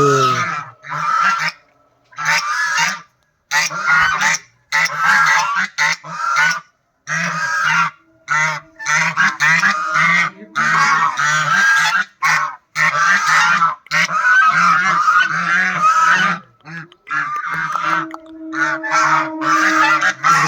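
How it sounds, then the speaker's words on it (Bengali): Geese honk loudly and close by in a series of repeated harsh calls, several birds overlapping in bursts with short pauses between. "দেখো হাঁস, রাজহাঁস, আরও সব আসবে।"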